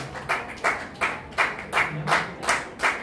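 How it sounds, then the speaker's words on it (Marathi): Rhythmic clapping at an honouring ceremony for guests, bursts of claps arriving in a steady repeated pattern about every half second, fairly close and moderately loud, no talk over it. "जोरदार टाळ्या वाजवत राहायला पाहिजे"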